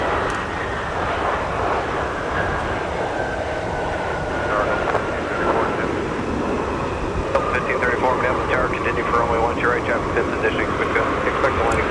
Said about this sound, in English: Delta 425 arriving from Sarasota, Florida with a 737-900ER